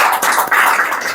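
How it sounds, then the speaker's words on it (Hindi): Burst of dense applause from an audience honouring a student at a coaching-institute award ceremony, steady broadband clapping throughout with no voices. "जोरदार तालियों से उसका उत्साह वर्धन करें"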